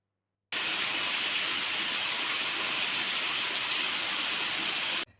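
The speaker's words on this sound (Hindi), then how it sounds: "हमारे यहाँ आज सुबह से ही बारिश हो रही है" Steady rain falling on a morning, a dense, even hiss that begins abruptly and continues unbroken at a constant level before cutting off, with no voices.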